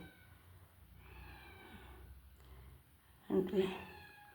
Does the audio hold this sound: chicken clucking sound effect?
no